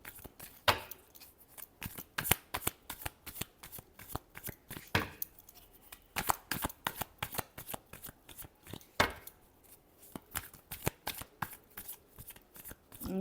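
Tarot cards are shuffled by hand at close range, producing a steady run of crisp riffling slaps and flicks, with a few louder snaps scattered through and no talk over them.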